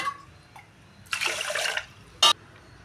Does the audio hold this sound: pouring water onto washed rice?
yes